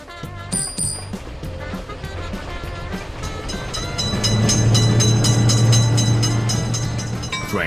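Close to a road level crossing, a train approaches with rattling wheel clatter and a few early bell-like pings, then swells into a loud, sustained rumble and hum as the wagons roll by.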